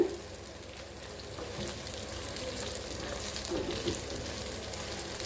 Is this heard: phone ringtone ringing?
no